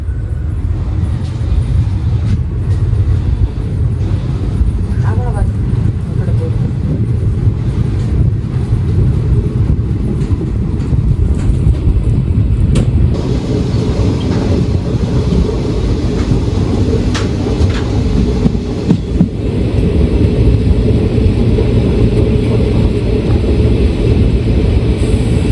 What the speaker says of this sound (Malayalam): നമ്മുടെ വണ്ടി ഇവിടെ നിന്ന് ഔട്ടറിന്ന് എടുത്തു കേട്ടോ